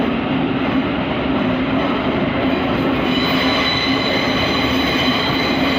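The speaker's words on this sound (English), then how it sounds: "we also have the Thameslink 700 departing" A Thameslink Class 700 electric train pulls out of London Bridge station with a steady, loud rumble and a rising electric motor whine. The sound is continuous and close, with rail noise throughout and no voices.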